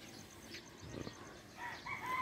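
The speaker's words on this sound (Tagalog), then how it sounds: "Yan yung manok." A rooster crows faintly in the distance on a farm, a brief drawn-out call rising over quiet outdoor background noise.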